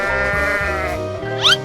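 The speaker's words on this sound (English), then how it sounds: "sheep" Over a light musical backing, a cartoon sheep lets out a close, wavering bleat that ends in a brief high rising flourish, with no talk.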